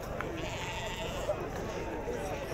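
Sheep bleat faintly at a busy Eid livestock market in El Hajeb, Morocco, half-buried in steady crowd murmur and people talking nearby.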